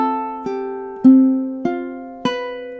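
A ukulele plays measure 17 of a song in steady time, with five distinct plucked chord attacks, each ringing and decaying before the next.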